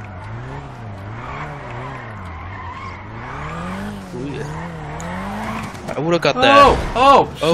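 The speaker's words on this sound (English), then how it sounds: "Hit the wall. I heard it. That was a loud one." A GTR in GTA 5 roleplay on a drift track skids with a long, steady tire squeal over a droning engine, then slams into a wall in a loud crashing burst near the end while someone talks.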